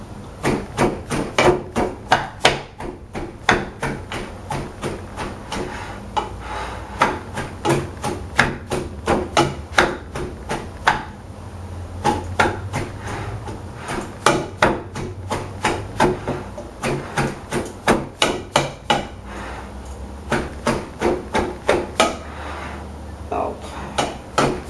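Shredded cabbage being pounded in a container to make homemade sauerkraut. A steady series of sharp, close knocks and clicks repeats about once every half second, without pause.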